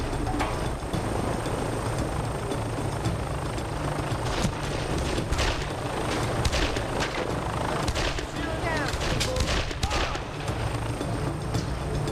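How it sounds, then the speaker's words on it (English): Gunfire in the Made Man video game, a swamp shootout with scattered shots and bursts cracking over a dense, loud bed of game noise and music, with talk heard in the background. "You heard the gunshots?"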